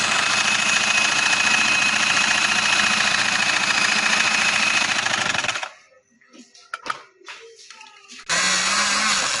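A sewing machine stitches a casual trouser with a loud steady mechanical whirr and rapid needle chatter, stopping for a couple of seconds of quiet handling before running again.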